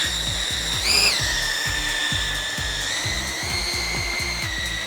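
Several small drone motors whine at a high steady pitch, rising briefly as they spin up, with rapid rhythmic clicking underneath.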